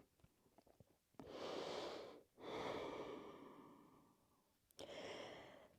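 Heavy breathing during a Pilates mat workout, three long, loud exhalations close to the microphone separated by brief pauses.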